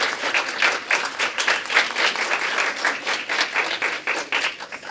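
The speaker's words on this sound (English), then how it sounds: "I want you all to give yourselves a round of applause" Sustained applause from a crowd gathered for an ethics challenge event, dense and steady clapping for the full stretch with no speech over it.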